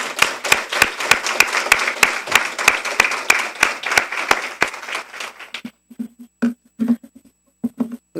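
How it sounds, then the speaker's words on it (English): Applause for graduates at a school board meeting: a steady crowd of hands clapping loudly for several seconds, then thinning into scattered, fading claps. "So if I can get a round of applause for all of our graduates."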